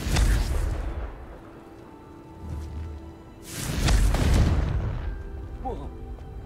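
Confringo fire spells in the video game Hogwarts Legacy go off as booming blasts, two big bursts with a rumbling tail and a smaller thud between them, with a voice speaking over the action.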